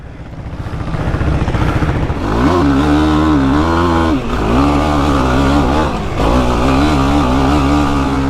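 Yamaha YFZ sport ATV engine revving hard and loud up close, climbing in pitch through several sustained high-RPM pulls with brief dips between them on a hill ride.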